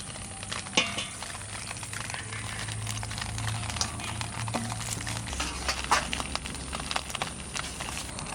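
Spiced water goes into a pan of cooking pomfret fish curry in a village-style kitchen, bringing a soft bubbling sizzle with stirring scrapes and small clinks. The sound is moderately quiet and steady, with a low hum underneath.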